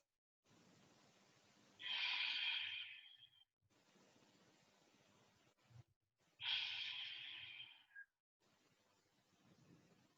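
Slow, deep exercise breaths during a floor stretch with feet flexed, two loud whooshing exhalations a few seconds apart over a quieter steady breathing background.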